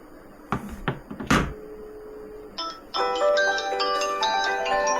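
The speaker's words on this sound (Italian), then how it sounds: "Eccolo che squilla." A smartphone rings with an incoming call, its melodic ringtone starting loud and continuous after a few sharp knocks and thumps, with no talking over it.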